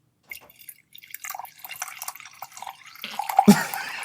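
Liquid trickles and drips as scotch is poured into a glass, a short close pour that builds toward the end with a bright clink near the finish.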